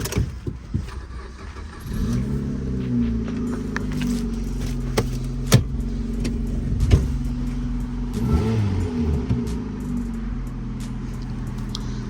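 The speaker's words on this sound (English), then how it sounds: "Engine sounds good. I was wondering why is it so loud, but it's got a new exhaust on it" A Vauxhall Agila fitted with a new exhaust starts up and settles into a loud, steady idle with a deep rumbling drone. A few clicks and small blips sit on top, and the engine stays close throughout.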